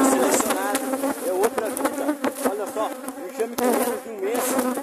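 A honeybee swarm buzzing inside a hive box, a dense continuous hum with wavering pitch, loud and close, with scattered sharper sounds of individual bees throughout.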